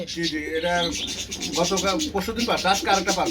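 King pigeons coo close by in a pigeon coop, with a few overlapping low, throaty rolling calls in quick succession and faint chirps mixed in.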